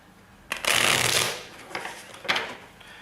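A deck of playing cards being shuffled, a riffle-style burst of rapid flapping and rustling that builds then tails off, followed by a shorter second riffle, close up with no talking.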